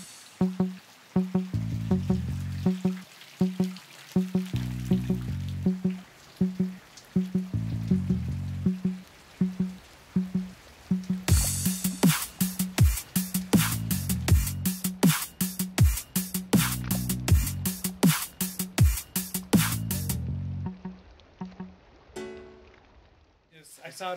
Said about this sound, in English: And it's hailing.